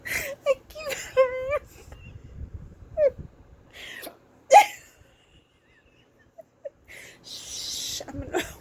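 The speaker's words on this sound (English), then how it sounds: "I've never had the hiccups like this before" Repeated sharp hiccups from a person at home, several squeaky gasping jolts spaced irregularly with short pauses, some followed by faint giggling and whispered talk between them.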